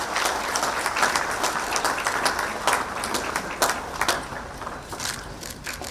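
An auditorium audience at a scholarship launch ceremony applauds steadily, a dense, sustained rattle of many hands clapping with uneven crackling peaks and no talk.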